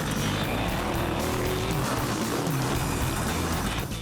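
Bowler 4x4 off-roader driven hard uphill on a racing course, its engine a loud, steady, rough roar that continues throughout, with no break.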